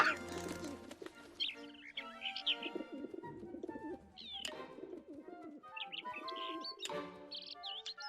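Cartoon birds chirp and tweet in bright, repeated bursts, mixed with pigeon-like coos and a music score, in the Disney Mickey Mouse short Feed the Birds.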